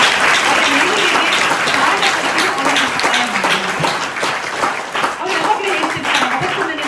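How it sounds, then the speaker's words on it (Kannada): An audience at an award ceremony claps steadily throughout, a dense, sustained round of applause that stays loud from start to finish. "ಜೋರಾಗಿ ಚಪ್ಪಾಳೆ ತಟ್ಟಬೇಕು."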